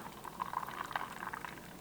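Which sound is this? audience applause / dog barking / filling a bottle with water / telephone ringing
filling a bottle with water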